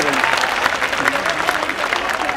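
Audience applause at an Urdu mushaira poetry gathering, a brief burst of steady clapping from a crowd, fairly close, with a voice speaking over it.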